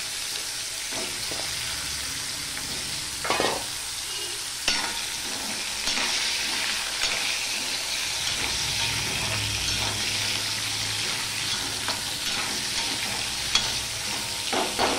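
Long-cut potatoes sizzle steadily in hot oil seasoned with panch phoron, with occasional stirring scrapes and clinks over a continuous frying hiss, close and fairly loud.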